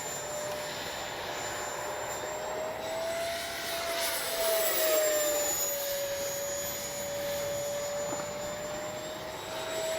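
A Freewing Banshee RC jet flies past with a continuous whining turbine-like drone. The pitch shifts as it passes and it swells louder midway, then eases off.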